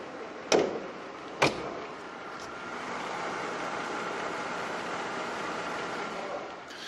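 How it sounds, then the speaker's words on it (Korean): The engine hood of a Mercedes-Benz E-Class with a V6 engine is closed, giving two sharp, close thumps about a second apart, followed by the quiet hum of the idling engine and no talking. "엔진룸 닫게 되면은"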